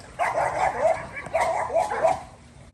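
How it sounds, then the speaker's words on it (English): Household dogs bark loudly, trying to outdo a neighbor's dog. Several bursts of yelping, whiny barks come in two clusters, fairly close and forceful. "Our dogs was trying to compete with the neighbor's dog as far as who could be the loudest dogs."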